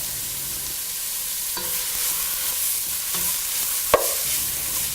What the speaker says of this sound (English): In a pan, heat 2 tablespoons of coconut oil and add the onions with salt and saute till the onions turn pale in color.